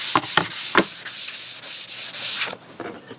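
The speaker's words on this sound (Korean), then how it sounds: "기본 사포만 이렇게 해주시면 좋을 것 같아요" Sandpaper rubs back and forth over solid wood tray parts in quick, regular strokes, close and fairly loud, with no speech.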